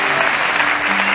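A church congregation applauds, dense and steady clapping filling the whole moment at full volume, with no voices standing out.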